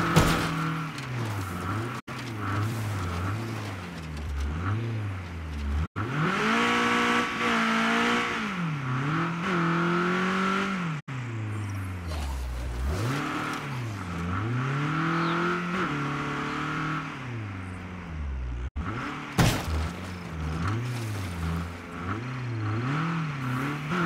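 A vehicle in State of Decay 2 drives with an engine that revs up and down in repeated swells, loud and steady throughout, with a few thumps of impacts.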